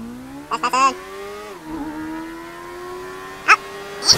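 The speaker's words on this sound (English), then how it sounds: "The engine still sounds strong." A car engine in the video game GTA 5 holds a steady drone, dips briefly, then rises again, with short sharp bursts layered over it from the game.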